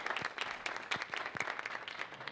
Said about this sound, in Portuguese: Uma salva de palmas para o Pedro que está representando aqui.